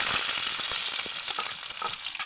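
Chopped onion and green chilli fry in hot mustard oil in a kadai for tarka, a loud, continuous crackling sizzle close by, with light stirring knocks throughout.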